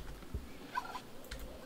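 A turkey in the video game Project Zomboid gobbles once, a faint, short warbling call over a low, quiet game background.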